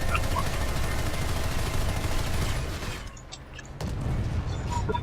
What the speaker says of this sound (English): the machine gun I'm using right now is a unlock, but it's working quite well against small air units